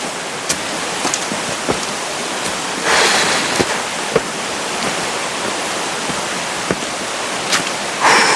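Steady broadband rush of a waterfall and flowing river water near a hillside pipe, continuous and fairly loud, with scattered small clicks and knocks from footsteps on top and no speech.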